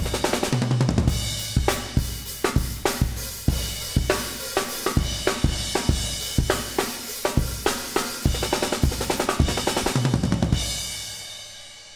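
A full drum kit with crash cymbal and hi-hat plays a steady beat alone, sharp kick and snare hits in a regular rhythm with cymbal wash throughout, ringing out at the end.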